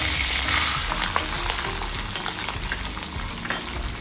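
Chana dal and curry leaves crackle in hot tempering oil in a kadhai, a dense, continuous, close sizzle with small pops and occasional scraping of a spatula.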